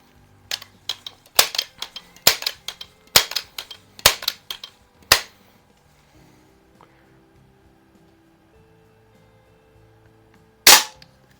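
An antique Crosman air rifle from the 1920s to 1970 era is fired, giving six sharp, dry cracks at a fairly steady pace, then a quiet pause before one final loud shot.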